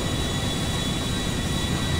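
Boeing 747 airliner in a flight video game, a steady broad engine roar and rushing air, loud and continuous with no talk.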